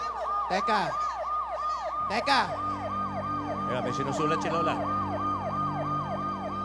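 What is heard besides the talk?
police siren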